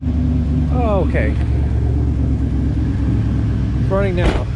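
A 1984 Camaro Z28 idles with a major exhaust leak, giving a constant loud, rough rumble close by while people talk over it.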